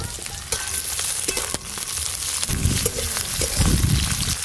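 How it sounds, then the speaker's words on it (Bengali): Chopped onions fry in oil in a pan, a continuous close sizzle broken by a few sharp stirring clatters and louder bursts of spitting toward the end, with no talking. "পেঁয়াজগুলো অর্ধেক ভেজে নিয়েছি"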